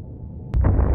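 A massive nuclear-scale blast in the Destroy All Humans! game erupts suddenly after a quiet rumbling lull, a sharp crack followed by a loud, deep sustained roar.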